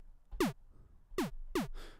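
Three short descending blips from an 8-bit chiptune synth thump effect made with the Magical8bitplug2 plugin, each a quick downward pitch drop, spaced irregularly and followed by a faint noisy burst, played alone at low level.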